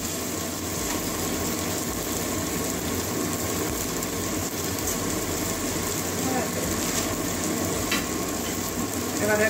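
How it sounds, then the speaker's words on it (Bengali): Spice paste for a Bengali Lote fish bhuna sizzles and fries steadily in a pan, a soft continuous crackle with faint stirring, quiet and close throughout. "ভালো করে কষিয়ে নেবো মশলা।"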